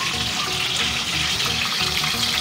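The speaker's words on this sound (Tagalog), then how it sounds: "Ipag-prito muna natin si nanay ng isda." Fish frying in hot oil in a home kitchen, a loud, continuous sizzle and crackle that holds steady throughout with no talking over it.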